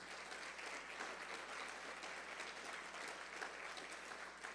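A church congregation applauding, a dense, even patter of many hands clapping continuously at a fairly faint, distant level.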